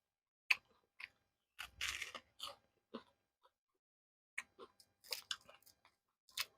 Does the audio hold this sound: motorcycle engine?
no